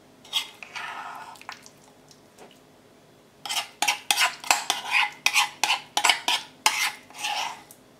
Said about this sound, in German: Und dann rühren wir das Ganze gut durch.